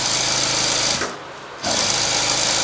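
A sewing machine stitches the neck of a cross-cut blouse, a loud continuous mechanical whir close by that slows briefly for a fraction of a second before running again at full speed.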